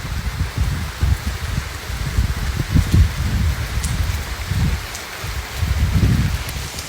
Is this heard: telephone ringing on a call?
no